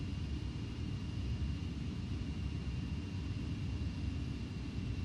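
A steady, low jet engine rumble with a thin whine comes from a Boeing 727 rolling onto the runway in Flight Simulator X. It stays constant and moderately loud, with no talking.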